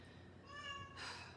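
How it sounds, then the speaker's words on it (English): A house cat lets out a drawn-out, rising meow followed by a brighter cry, faint but clear against a quiet room, with no one talking. "This is the cat we were left with."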